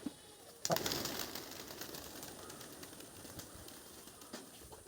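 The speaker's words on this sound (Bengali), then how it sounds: "এখানে দেখো হচ্ছে কবুতর" Hobby pigeons coo softly outdoors, their low calls faint and partly masked by steady wind-like ambient noise, with a brief louder rustle near the start.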